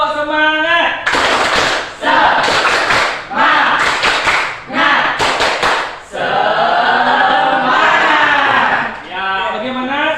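A classroom group doing a rhythmic spirit-clapping ice breaker, bursts of loud sharp clapping in patterned rounds, alternating with a teacher's voice and group chanting.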